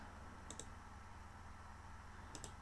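Two quick pairs of computer mouse button clicks, one early and one near the end, faint against a steady background hum.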